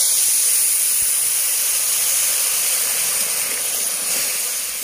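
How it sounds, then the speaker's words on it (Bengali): Sugar and about a cup of water heat in a wok into syrup for motichur laddu, giving a steady close hiss and steam-like bubbling that runs evenly throughout, with no talk. "চিনির সিরাটা তৈরি করে নেব।"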